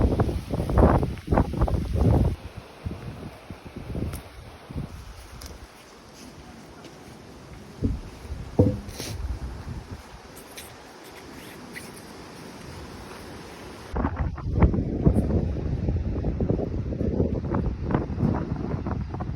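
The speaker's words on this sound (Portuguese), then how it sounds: "E tá ventando mesmo." Strong wind sweeps a mountain hiking trail and buffets the microphone in rough, uneven gusts. The rushing swells and eases over the whole stretch.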